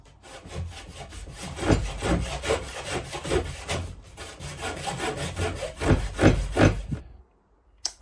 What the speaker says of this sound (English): time for some hand sawing